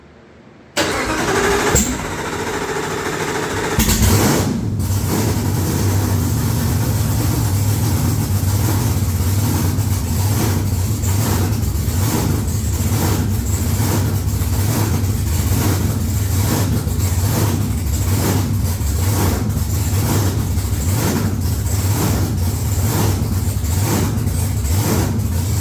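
A Camaro project car's engine cranks and fires up, then settles into a steady, loud, lumpy idle that runs on for over twenty seconds with no talking.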